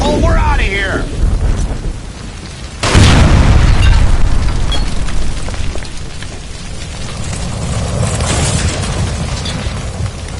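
A gas line explodes in a kitchen in L.A. Noire, one sudden loud boom followed by a long roaring, crackling rumble, with voices shouting over the game sound.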